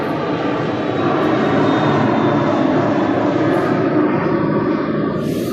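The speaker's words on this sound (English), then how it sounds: "let me let this plane go by" A fixed-wing airplane passes overhead, its engine roar a loud, steady broadband rumble that holds for several seconds with no voices.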